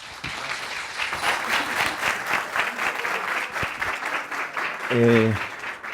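Audience applause fills an auditorium at a university event, a steady dense wash of clapping throughout, with a brief voice breaking in near the end.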